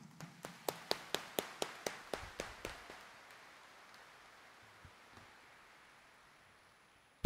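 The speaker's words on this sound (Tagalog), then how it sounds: "naniniwalang mahal sila ni Jesus Nazareno, iparinig natin sa kanya ang mas malakas nating palakpak." Roughly eleven sharp, evenly spaced claps in unison from a church congregation at a Quiapo Church morning Mass, steady for about three seconds, then a reverberant fade into near silence.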